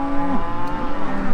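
Cattle mooing close by on a farm, one long sustained low moo followed by further lowing, loud and clear with no talk.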